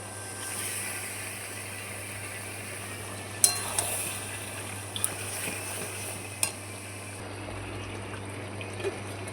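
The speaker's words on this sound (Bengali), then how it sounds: "এখানে ম্যারিনেট করা চিকেনটা দিয়ে দিচ্ছি।" Marinated chicken tipped into a pan of lightly fried onions, with a steady low sizzle and a few sharp spoon-and-pan clinks scattered through, no voices.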